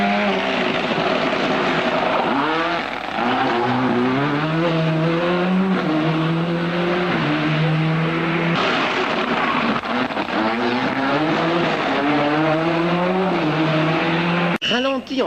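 Ford Escort WRC rally car at full throttle on a special stage, engine note climbing and dropping through repeated gear changes, loud and near, with a commentator talking over it.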